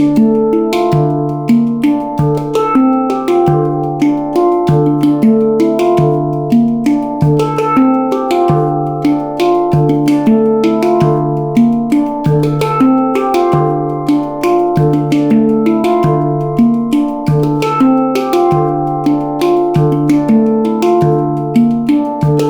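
Handpan played at a brisk tempo in 7/8, ringing melodic strikes in a steady odd-meter pulse, close and loud, alone with no talking.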